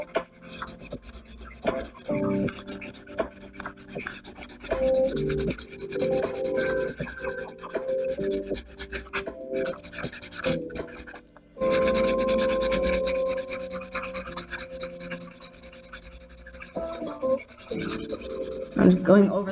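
Art pencil rubbing and scratching steadily across paper while one colour is layered over another. The strokes are close and continuous, with a brief pause partway through. No one speaks.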